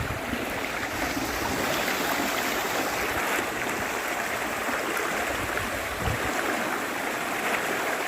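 Rushing water from a fast stream or waterfall at Tham Phra waterfall in Bueng Kan, Thailand, pours continuously, loud and near, with no talking.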